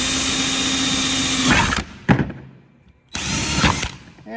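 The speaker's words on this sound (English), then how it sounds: "I take the 5/16 inch bit, I put it right there at the score mark that I just made" A power drill bores a 5/16 inch hole for an eye bolt in a self-bailing water marker, whining loudly and steadily, stopping briefly with a clunk, then starting up again close by.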